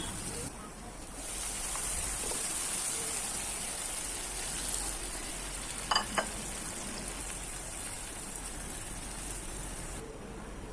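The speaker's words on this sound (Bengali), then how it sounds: "এখন আমি দিয়ে দিই হালকা করে একটু নাড়িয়ে দিব।" Curry sizzles steadily in a hot pan as it is lightly stirred, a continuous frying hiss with a couple of brief utensil knocks midway.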